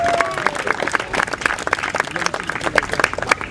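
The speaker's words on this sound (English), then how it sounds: "Just give yourselves a round of applause for last night's showing" Crowd at an anti-police-brutality rally in Boston claps and cheers loudly, a dense steady burst of applause throughout with a voice briefly audible over it.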